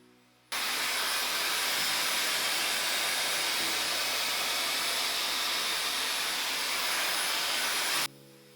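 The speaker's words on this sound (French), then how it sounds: "la brosse est bien paramétrée à chaleur et puissance maximum" A Dyson Airwrap hair styler running at maximum heat and power gives a steady, loud, close airy roar that switches on abruptly and holds evenly for several seconds before cutting off.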